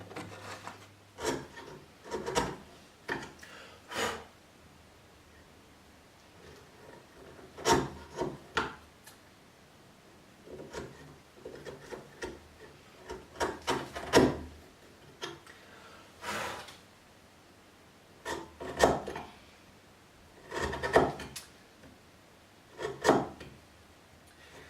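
A chisel cuts out wooden dovetail joint pins in a series of sharp, close scrapes and taps at irregular intervals, separated by short quiet pauses.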